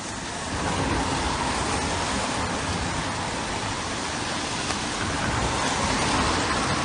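Rain falls on the streets of Bridgetown in a dense, even hiss that holds steady from start to finish, with no talk over it.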